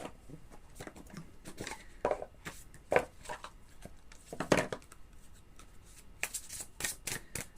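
A deck of oracle des astres cards shuffled by hand, a series of soft riffling and slapping bursts at close range, irregular and quiet, with no talking.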